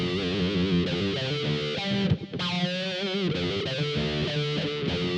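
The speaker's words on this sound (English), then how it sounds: "I'm going to add in a bit of delay. And then some reverb." Electric guitar notes through a Boss GT-100 with delay and reverb ring out with echoing repeats and a wash of reverb, sustained and layered, with a brief break partway through.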